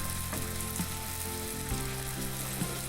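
Chopped onion and green pepper frying in olive oil in a cooking pot, a soft steady sizzle with a few utensil knocks and a faint tonal hum.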